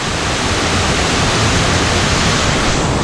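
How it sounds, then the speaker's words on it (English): A Tasmanian waterfall roars loudly and continuously, close by, as a dense, steady rush of falling water with no voices over it. "Now that is a waterfall."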